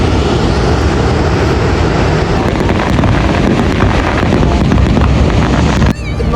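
Water rushing at Niagara Falls, a dense roaring wash mixed with wind buffeting the microphone, loud and constant before cutting off near the end.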